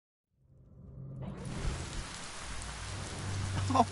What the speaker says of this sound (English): Oh no! Rain!